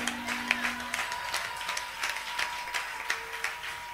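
A church congregation claps in praise of God during a worship service: a steady patter of many hands, moderately loud and continuous, with a faint sustained tone underneath.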